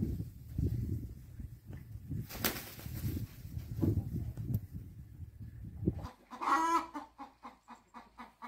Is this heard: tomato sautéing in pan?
no